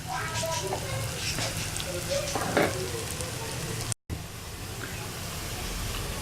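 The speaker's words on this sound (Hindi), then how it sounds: "प्याज भून रहे हैं, थोड़े से ब्राउन हो जाएंगे" Onions browning in a pan on the stove for beef tawa keema, giving a steady close sizzle and crackle that runs throughout with a brief gap partway through.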